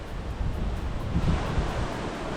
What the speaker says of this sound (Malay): Angin begitu indah.